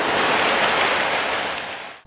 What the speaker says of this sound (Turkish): sağanak, Bolu kent merkezinde de aralıklarla etkili oluyor